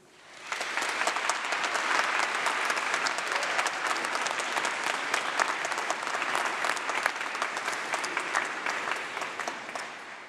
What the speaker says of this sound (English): Let's give a massive round of applause and cheer to say thank you to all your supporters